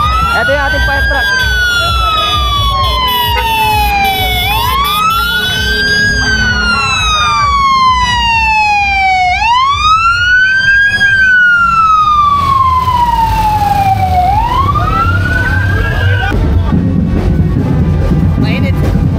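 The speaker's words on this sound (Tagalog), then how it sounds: "meron po uling fire truck kasi may sunog daw po sa bandang Matimbo. Ito yung ating fire truck." A fire truck's wailing siren rises and falls in long repeated sweeps, loud and close, as it passes along a street during a Catholic Ascension procession in Barrio Atlag, Malolos, heading to a fire, with traffic rumble underneath.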